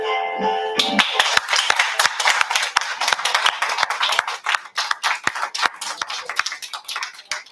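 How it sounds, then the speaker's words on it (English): Scattered clapping from a few people in the background at a school board meeting, a steady run of sharp individual claps close by, the room otherwise quiet with no talk. "Those folks that are in the background clapping"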